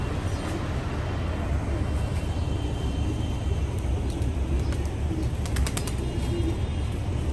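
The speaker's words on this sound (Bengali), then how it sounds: "কবুতর ছেড়ে দিলাম" Racing pigeons released for their first home flight of the season take off in a flurry of flapping wings, rapid fluttering bursts over a steady outdoor rumble, fairly close.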